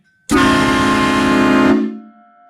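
A HornBlasters Conductor's Special 2485 Nightmare Edition train horn mounted on a truck gives one very loud, sustained chord-like blast of about a second and a half, then cuts off with a brief fading tail.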